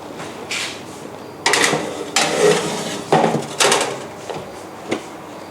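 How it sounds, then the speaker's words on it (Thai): Muffin tray slid into a preheated oven during corn muffin baking: a run of close wooden and metal knocks, clatters and a door-like thud, several separate bangs spread through the moment with no talk. "ทีนี้เราจะนำมัฟฟินเข้าเตาอบกันเลยค่ะ"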